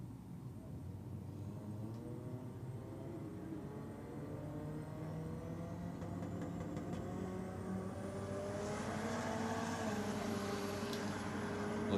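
A Toyota Hilux race truck's engine drones steadily through a drag run, the note climbing gradually as it revs higher, heard from some distance amid continuous crowd and track ambience.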